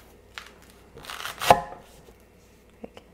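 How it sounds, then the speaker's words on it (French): A knife slices through a block of peeled taro root, giving a single sharp cut sound with a few faint knocks before and after, close and alone with no talking. "je vais venir m'en couper un bloc de 500 grammes"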